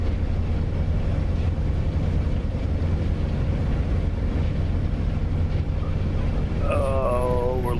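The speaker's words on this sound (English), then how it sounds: "I'm trying not to overdo with the engine and push it too much." A WWII aircraft engine strains in the DCS flight simulator game, a loud, continuous droning rumble throughout, with a wavering high tone entering near the end.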